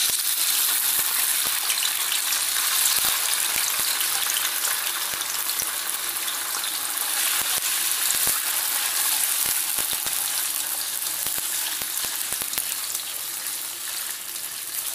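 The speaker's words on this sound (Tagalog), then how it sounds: "Fry lang natin yung tokwa natin" Tofu frying in a pan for messiam with prawns and eggs: a continuous close sizzle with scattered crackles and pops, steady throughout with no talk.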